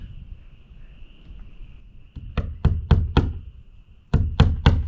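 Nails hammered partway into wood as spacers for garage roof sheathing: two sharp bursts of loud, ringing blows, four strikes then three, over a faint insect drone.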